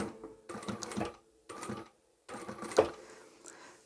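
A sewing machine runs in three bursts of stitching, pausing briefly between them, as it sews a 1 cm side seam through layered fabric for a divided fabric basket, backstitching at the start.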